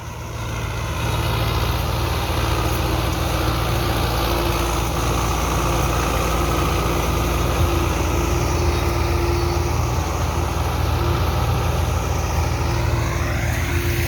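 A Belarus tractor's diesel engine idles steadily close by, a continuous low rumble with a constant hum that holds unchanged for the whole stretch, with no talking over it.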